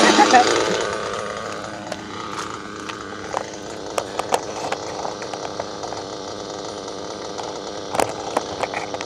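A modded Pico RC car's electric motor runs with a whining buzz that starts with a rising rev, then steady drone with scattered clicks and knocks from the drivetrain, fairly close.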